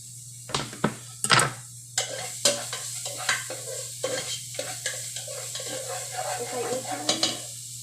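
Garlic and onion sauté in a hot pan for a Filipino vegetable and pork dish, a close sizzle broken by repeated scraping and clanking stirs of a utensil against the pan.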